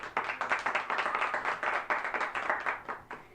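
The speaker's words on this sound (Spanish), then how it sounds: "Den un fuerte aplauso al Señor" A church congregation claps steadily for a few seconds, a dense patter of many hands at moderate volume, with no voices over it.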